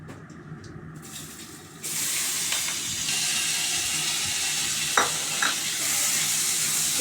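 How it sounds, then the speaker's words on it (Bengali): Cumin seeds, dried red chillies and bay leaf hit hot oil for a Bengali fish curry, bursting into a loud, continuous sizzle after a quieter start, with a few sharp crackles and pops. "এবার জিরে, শুকনো লঙ্কা, তেজপাতা তেলে দেব।"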